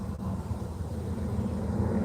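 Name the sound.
helicopter flying overhead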